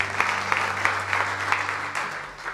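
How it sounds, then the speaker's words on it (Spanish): A church congregation claps during a Spanish-language service, with dense, even applause close to the mic over a steady low hum. "Démosle un fuerte aplauso a misiones."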